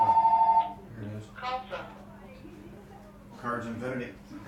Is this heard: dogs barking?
no